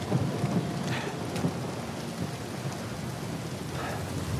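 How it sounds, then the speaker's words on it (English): Heavy rain and rumbling thunder inside the video game Uncharted 4: A Thief's End on PS5, a dense steady downpour with low rolling thunder underneath, loud and continuous. "So much rain!"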